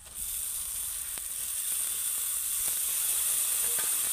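Grated raw potatoes hit a hot spiced pan for a crispy flour-and-potato snack, setting off a loud, steady, hissing sizzle with a few faint clicks underneath.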